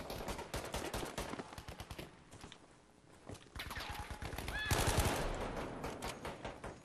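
Rapid bursts of automatic gunfire in the first-person shooter Battlefield V, with dense volleys and a brief lull in the middle before the shooting resumes, loud and close with some distant shots.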